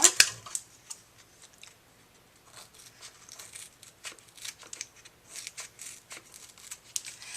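Scissors snip through paper to cut out shapes for a birthday card, giving a run of soft, quick crisp snips and rustles, faint and close, with one louder clack at the start.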